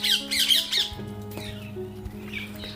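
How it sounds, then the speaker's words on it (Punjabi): Birds call in an old forest grove at Gobindpura Jhiri, a cluster of bright squawks up front followed by scattered, fainter chirps over a quiet background, with no one talking. "ਪੰਛੀਆਂ ਦੀਆਂ ਆਵਾਜ਼ਾਂ ਵੀ ਬਹੁਤ ਹੀ ਕੰਨਾਂ ਨੂੰ ਸਕੂਨ ਦੇਣ ਵਾਲੀਆਂ"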